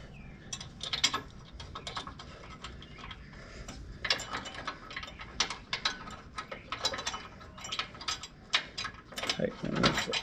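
A ratchet wrench clicks in repeated bursts of quick pawl ticks while tightening bolts on an offroad winch bumper, the strokes close and fairly clear with small pauses between runs.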